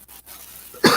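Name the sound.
person coughing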